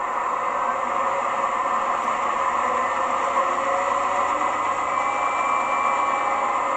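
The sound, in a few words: Class 68 locomotive DCC sound in electric train heating mode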